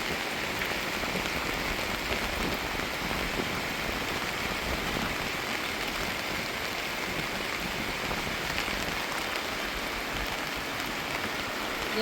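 Heavy rain beats down in a village during a storm with wind, a dense, steady roar of falling water on surfaces and tin sheeting that goes on unbroken, with no voices.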